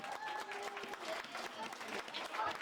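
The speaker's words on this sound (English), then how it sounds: "Let's give them all a round of applause." Audience applause at an award ceremony honoring AED project volunteers, a steady wash of clapping that fills the whole stretch with crowd noise and a few voices mixed in.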